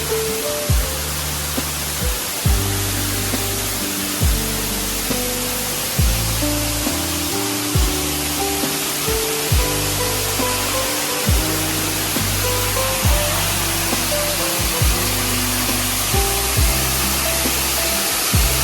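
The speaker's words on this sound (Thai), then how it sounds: "เพราะนี่คือเสียงของน้ำตกครับ" A loud, constant rushing roar of a waterfall fills the scene, broad and unbroken, with faint low thumps recurring underneath; at a campsite in Kanchanaburi, Thailand.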